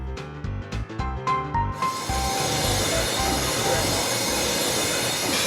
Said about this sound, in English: the steam locomotive arrived in all its glory